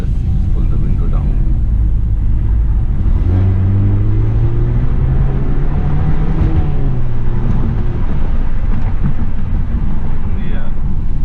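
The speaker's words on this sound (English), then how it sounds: "This car does have the Miltec catback exhaust, so that's a fun exhaust to hear." A BMW F30 320i LCI's Miltec catback exhaust drones low and steady while driving, its note rising and falling with the throttle, with wind and road rumble, and no one speaking.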